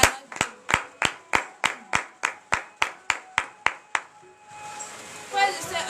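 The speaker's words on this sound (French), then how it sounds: "Donnez de vives acclamations à notre Dieu." A congregation at a Wednesday morning prayer service in Benin claps in a steady, loud rhythm of about a dozen sharp, evenly spaced claps, then breaks into a softer mix of voices and scattered noise.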